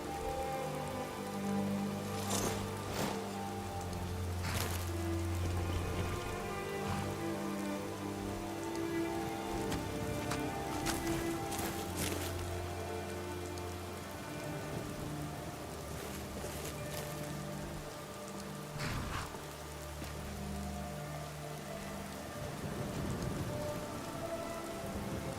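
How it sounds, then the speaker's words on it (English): Steady rain falls in Skyrim, a soft continuous patter on surfaces with occasional louder crackles, laid over low sustained game music tones, fairly quiet throughout. "It's quite different when I'm actually in the rain."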